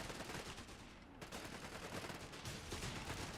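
Dense, continuous machine gun fire from a Company of Heroes 3 battle on the Road to Tunis map, with an MG team firing from a building at advancing Royal Engineers; loud rattling bursts overlap with other gunfire throughout, with no voices.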